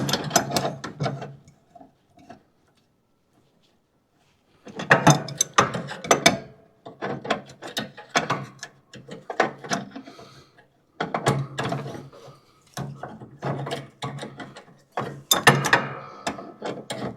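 An adjustable wrench turning a bolt on a riding mower's steering, heard as close bursts of clicking, ratcheting metal turns in several separate spells with quiet pauses between them.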